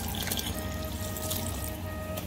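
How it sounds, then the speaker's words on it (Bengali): Water poured into a homemade mango kasundi mixture, a soft continuous trickle and splash heard close by at moderate loudness without speech. "এইটুক জল পুরো দিয়ে দিচ্ছি।"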